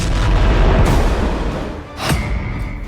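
Heavy booms and blasts from the Iran–Israel war rumble in dense succession, loud and close, with a sharp burst near the end over continuous low roaring.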